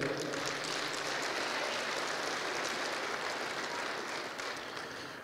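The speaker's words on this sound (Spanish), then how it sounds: "Lo recibimos con fuerte voto de aplausos." A conference audience at a keynote lecture in Puno breaks into dense, continuous applause that holds steady for several seconds and then begins to taper off.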